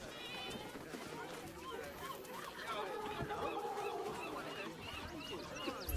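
Geese honking in the video game Baldur's Gate 3, a steady run of nasal honks and calls layered over game music and ambience, with a voice talking through it.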